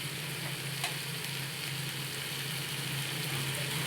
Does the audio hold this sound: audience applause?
no